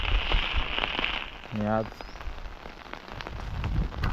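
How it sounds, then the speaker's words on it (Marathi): The first monsoon rain in Konkan in late June makes a steady hiss of drops falling on surfaces, with a person speaking briefly over it. "पावसाला सुरुवात झाली आहे बघा"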